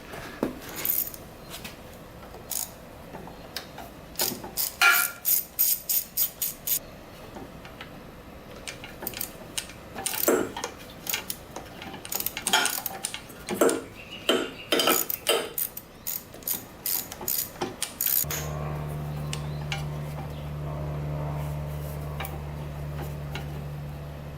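A hand ratchet removing a cover from a small gas-powered go-kart, rapid close clicking in several bursts with pauses, then a steady low hum near the end.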